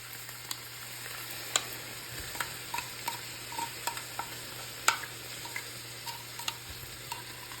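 Tuna sizzles softly in a pan for penne, a low, even frying hiss punctuated by scattered small ticks and pops, fairly quiet and without voices.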